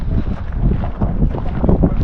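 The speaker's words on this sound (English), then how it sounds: "Because it is a little windy out here." Steady wind roars outdoors at Capitol Reef National Park in Utah after a front has passed, a loud continuous low buffeting rush across the microphone with no voices.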